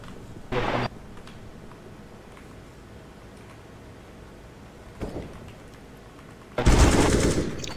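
Automatic gunfire in Counter-Strike: Global Offensive comes in three sharp bursts: a short one early, a brief one midway and a longer, louder spray at the end, with quiet game ambience between.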